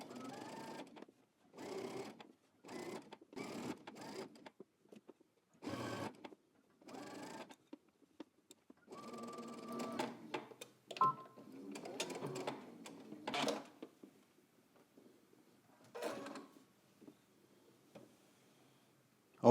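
Sewing machine stitching a flat fell seam in short, separate bursts of quick mechanical whirring with pauses of silence between, close and fairly quiet, with a few words spoken between bursts.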